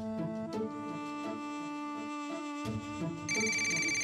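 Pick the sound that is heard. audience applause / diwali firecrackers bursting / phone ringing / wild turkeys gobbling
phone ringing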